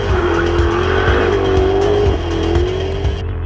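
A Jaguar sports car takes a corner flat out, its engine roaring loud and close with a rising and falling tone as the tires squeal, then the sound cuts off abruptly near the end.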